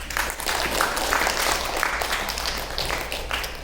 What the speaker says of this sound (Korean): 잘 오셨다고 우리 박수로 환영하겠습니다